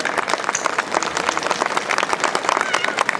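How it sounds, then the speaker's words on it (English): A school annual function audience claps for Father, a dense, lively patter of many hands, close and loud throughout. "we should give clap to Father"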